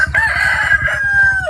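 A rooster crows loudly and close by in a rural Philippine farmyard, one long drawn-out call over steady low background rumble.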